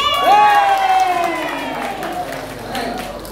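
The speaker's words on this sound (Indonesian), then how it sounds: "tepuk tangan Ibu Kyuyun" A crowd at a church fellowship karaoke contest applauds and cheers for a winner, loud voices and whoops rising at first over clapping, then the noise slowly thins out.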